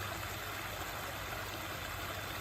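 A backyard waterfall running, heard as a soft, even wash of flowing water that holds steady throughout with no voices.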